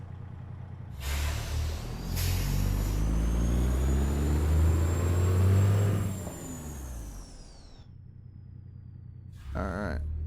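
A Volvo truck in American Truck Simulator rumbles and revs as it drives and makes a turn, its loud engine rising and then dropping away, followed by a brief hiss near the end.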